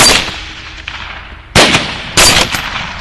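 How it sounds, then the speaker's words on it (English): Rifle shots ring out during a hog hunt in open country, with a faint distant crack early on, then two loud, close sharp reports about half a second apart, each trailing off in echo. "But I go off safe when I hear him shoot."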